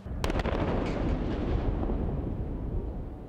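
A SpaceX Starship test vehicle explodes in a massive, continuous roaring blast with sharp cracking bursts at the onset, sustained loud rumble throughout, heard from a distance.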